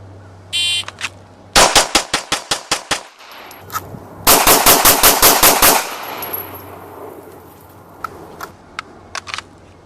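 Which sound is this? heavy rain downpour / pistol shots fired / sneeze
pistol shots fired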